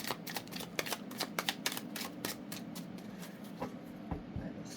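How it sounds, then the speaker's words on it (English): Tarot cards being shuffled by hand, a rapid run of crisp riffling and flicking bursts in an uneven rhythm, close and fairly loud, with no talk. "Five of Swords, 2 cards."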